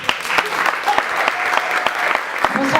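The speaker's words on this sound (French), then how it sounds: "Achoura, sous vos applaudissements." An indoor audience at a dinner event applauds steadily to welcome a speaker, a dense, sustained patter of many hands with a few faint voices mixed in.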